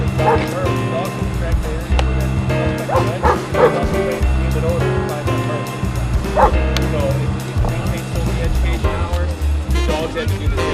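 A dog barks and yips repeatedly amid busy background noise, with people talking nearby.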